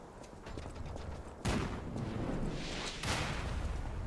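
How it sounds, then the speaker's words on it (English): Cannon fire in the video game Lies of P: two sharp, heavy booms about a second and a half apart, each bursting broadly and decaying into a rumbling tail over a low background ambience. "There's a cannon up there?"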